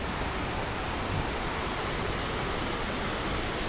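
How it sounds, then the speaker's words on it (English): The falls on the Reedy River give a steady, close, full-bodied roar of rushing water that stays constant and unbroken, with no voices. "let's continue our walking tour of the falls on the Reedy River"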